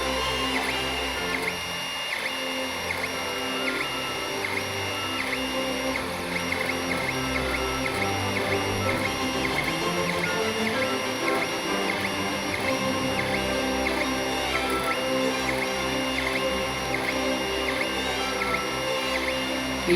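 A 3D printer steadily whirs and hums as it fills in the solid bottom of a mini drinking mug, with continuous stepper-motor tones and rhythmic head movement throughout and no voices.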